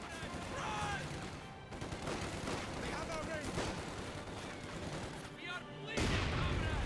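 Dense, continuous MP40 submachine gun and StG assault rifle fire in a Company of Heroes 2 battle, with a steady crackle of bursts and booms and a louder blast near the end, while a commentator speaks over it.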